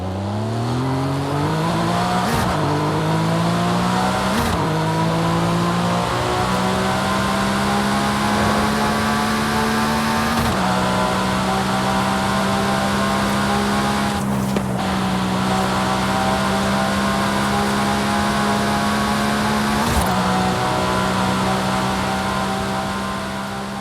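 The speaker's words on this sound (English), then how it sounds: "let's listen to the exhaust tone first" Porsche Cayman GT4 RS exhaust droning steadily while driving on the street, a continuous engine note that rises and holds through several gear changes, loud and close with no talk.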